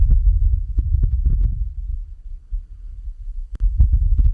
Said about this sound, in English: That is the sound of wind on the surface of the red planet recorded by the Perseverance